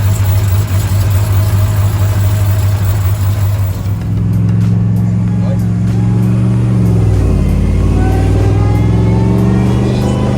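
A supercharged Hellcat crate V8 with a Whipple supercharger idles with a deep rumble, then revs up and settles, the low drone steady and loud throughout.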